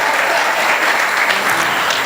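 An audience at a Mahesh Navmi cultural event claps for the president in a loud, dense, continuous round of applause lasting a couple of seconds.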